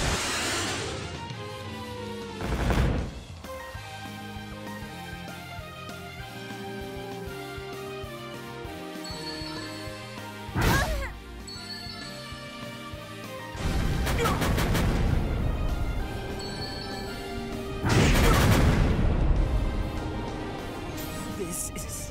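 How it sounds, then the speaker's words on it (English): Missile explosions in the Dark Rose Valkyrie video game: three loud booming blasts spaced several seconds apart, one short and two longer rumbling bursts, over game music and effects. "Missiles!"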